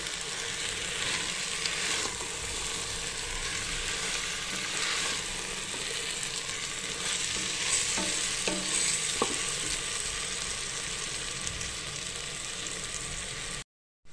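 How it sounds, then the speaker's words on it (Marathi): Mixed vegetables for veg biryani being stir-fried in a pan, a continuous close, even sizzle with faint stirring scrapes throughout and a sudden stop at the end. "अशी भाजी आपल्याला परतवून घ्यायची छानपैकी"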